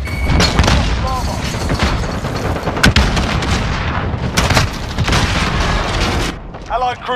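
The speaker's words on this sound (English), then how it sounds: "Cluster strike is go for launch." A cluster strike in Call of Duty Modern Warfare sets off a rapid, loud series of booming explosions and gunfire bursts. In-game voices call out over the blasts.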